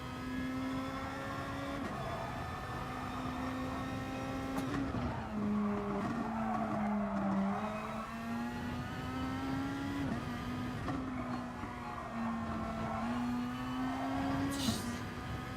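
Race car in the GT Sport video game braking into a corner, a sustained engine tone that drops and shifts as it slows, with tire squeal layered in and a steady mechanical roar, no voices.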